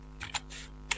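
A few quick, close key presses on a computer keyboard while typing into a search bar, in two short bursts of clicks against a quiet background.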